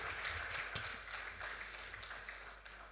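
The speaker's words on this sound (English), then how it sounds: "Please, a round of applause for him." An audience at an Africa polio-free certification celebration claps steadily for a speaker, giving a soft, continuous wash of applause that fades slightly toward the end and sounds somewhat distant.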